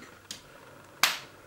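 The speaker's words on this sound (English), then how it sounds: "Can we get one clap on the mic, please?" A single sharp hand clap close to the microphone, marking sync before a live music session, preceded by a fainter brief click in an otherwise quiet room.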